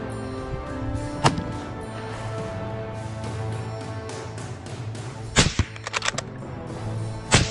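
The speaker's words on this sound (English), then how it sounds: "A burst of gunfire rang out decisively" Sharp gunshots from hunters shooting wild boar on a farm crack out over a steady background drone, a single shot first, then a quick scattered burst of several reports near the end.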